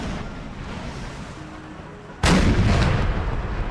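A single heavy cannon shot in an American Civil War video game booms suddenly after a stretch of quieter battlefield ambience, its loud rumbling blast lingering and fading over the following seconds.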